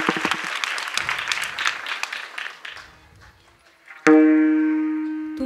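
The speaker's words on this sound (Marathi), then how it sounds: "जोरदार टाळ्या होऊ द्या, जोरदार." Loud applause from a kirtan audience during a devotional hari-naam week gathering in Sangvi, dense clapping that gradually thins and fades, followed by a bright sustained harmonium-like tone entering near the end.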